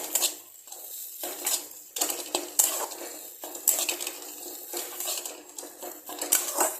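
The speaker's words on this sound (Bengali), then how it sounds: "আমি লঙ্কার গুঁড়া দিয়ে এটাকে ভালো করে এটাকে মিক্সড করে নেব" A utensil scrapes and stirs fish cutlet filling with chili powder in a pan, a close run of repeated metallic scrapes and clinks with no talking.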